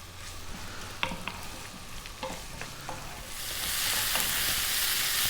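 Bacon and mushrooms sauté over medium heat in a pan, a soft crackle with light utensil taps early on, then swelling into a louder, dense hiss for the last couple of seconds.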